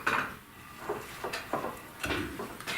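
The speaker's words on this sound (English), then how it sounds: "I think I'm going to mix it with my other spoon" A spoon working through chocolate chip mint doughnut batter in a bowl, giving intermittent scraping clinks and soft thuds against the dish, quiet and close, in short irregular strokes.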